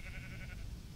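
A sheep bleats in the Minecraft video game, a single short wavering cry heard close and fairly loud against a dense background.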